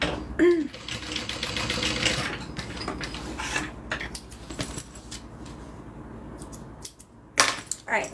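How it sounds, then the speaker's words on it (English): A sewing machine runs a stay stitch on purse connectors, with bursts of mechanical stitching and clicking, brief pauses and handling noises between runs. "So we're just going to do a stay stitch for these connectors."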